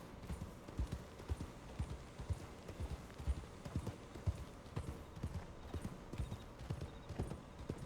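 Horse hooves clip-clopping steadily in Red Dead Redemption 2 as a rider travels at an easy auto-riding pace, a close, even rhythm of hoof strikes continuing throughout with a faint occasional whinny.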